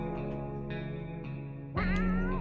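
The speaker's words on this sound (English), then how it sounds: "Meow! We got a cat!" A cat meows several times amid a droning musical backdrop in the video game 60 Seconds! Reatomized, ending in a louder, drawn-out, echoing meow.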